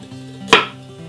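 A single sharp knife chop through fresh, cleaned carrot on a board, one crisp near thump with a quick bright edge, heard alone without speech, for a mixed vegetable soup.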